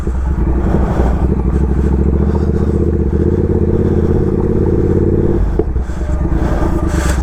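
Triumph Speed Twin motorcycle riding on gravel on street tyres, a loud steady engine drone with crunching, rattling gravel beneath, continuous and close with a brief dip near the end.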